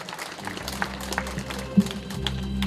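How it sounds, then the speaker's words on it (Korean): An audience applauds to welcome a Changnyeong County council member at an elementary school alumni association general meeting, a steady, fairly quiet patter of clapping that holds throughout. "박수로 맞아주시기 바랍니다"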